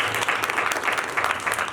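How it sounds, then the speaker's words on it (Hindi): Dense applause from a church congregation during a worship service, steady clapping filling the space with no voices on top. "तालियां बजाते हैं।"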